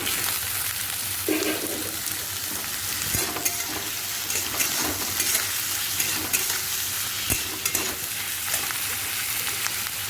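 Ridge gourd sizzles and fries steadily in a pan with onions, a continuous close crackle with occasional stirring scrapes and no talk.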